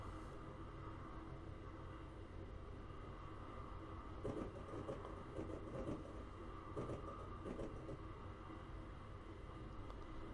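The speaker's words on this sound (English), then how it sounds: "Love that you can hear it kind of transitioning down the train tracks." An Amtrak passenger train rolls down the tracks, heard as a steady, close rumble from on board with soft rhythmic clatter and brief louder bumps partway through.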